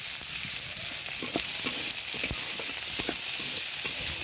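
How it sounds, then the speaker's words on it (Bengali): Chopped onion and garlic sizzle together in a hot pan, a steady close crackle with occasional stirring scrapes and small pops, no voices. "এবার পেঁয়াজ আর রসুনটা একসঙ্গে দিয়ে দিলাম। একসঙ্গে পেঁয়াজ আর রসুনটা কাটা দিয়ে দিয়েছি। রান্না হচ্ছে।"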